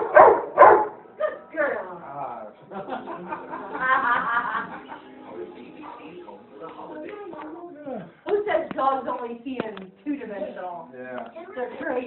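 A dog barks and yips excitedly in short bursts, mixed with people talking and laughing nearby.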